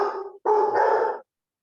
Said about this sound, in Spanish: Tiene hambre ya el perro, Dora.